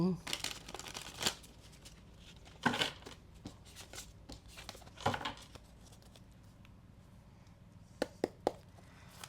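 Quick bursts of tarot cards being riffled and shuffled, crisp flutters in a few clusters with soft pauses between, close by and fairly quiet.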